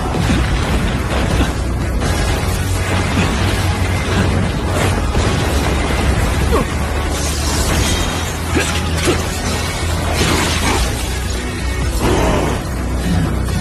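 A fiery 'Song of Fire' attack explodes in a Solo Leveling anime battle, producing a loud, sustained roaring blast and crackling rumble that fills the whole stretch with dense, continuous noise.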